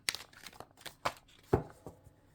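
Tarot cards shuffled by hand in a quiet room, giving a few soft, separate riffling and snapping bursts at uneven intervals, faint and close.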